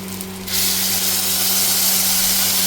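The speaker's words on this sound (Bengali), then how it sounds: "তেলের মধ্যে বাটা মশলাটা চলে গেল" Spice paste with grated ginger hits hot oil in a pan while cooking vegetarian chhanar kalia, a sudden loud sizzle starting after a brief quieter moment and holding steady, with a low steady hum underneath.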